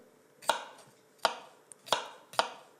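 A kitchen knife chops firm tofu and cucumber into small pieces on a board: four crisp, close knocks land at a steady, unhurried pace, with short quiet gaps between them and no voices.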